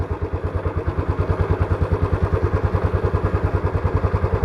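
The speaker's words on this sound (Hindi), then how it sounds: "हल्की सी रेस है, बड़ा गेयर है, डुक डुक डुक डुक डुक डुक डुक डुक, ये मस्त प्यार से चल रही है।" A 2024 Royal Enfield Bullet 350 Standard thumps along in a high gear at light throttle on a rural road, its single-cylinder beat a steady, rapid, evenly pulsing low thud that stays loud and close throughout.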